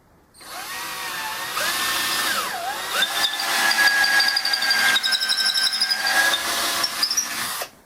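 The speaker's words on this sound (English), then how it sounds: "the last thing we need to do is to drill through this hole for the bolt all the way through the wood here." A power drill boring a bolt hole all the way through wood for a DIY fold-up pistol stand, running in one loud, steady whine for several seconds, its pitch sagging briefly under load before it stops.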